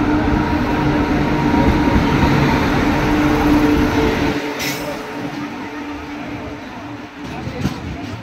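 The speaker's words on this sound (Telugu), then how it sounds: "మన ట్రైన్ అయితే ఇప్పుడు డిపార్ట్ అవుతుంది అనమాట." An express train pulls out of a busy junction station with a heavy rolling rumble that eases partway through, with voices faintly audible around the platform.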